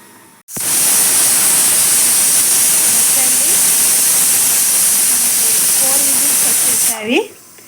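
A loud, continuous hiss of steam rushes out of a pressure cooker for several seconds, then cuts off abruptly; faint voices are barely audible beneath it.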